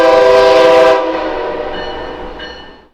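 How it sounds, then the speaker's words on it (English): A southbound Amtrak Acela high-speed train pulls into New Haven Union Station, a loud sustained horn blast up close that cuts off and leaves a fading rumble of the train. "We start, however, by catching southbound Acela service train number 2271, making their station stop at New Haven Union Station."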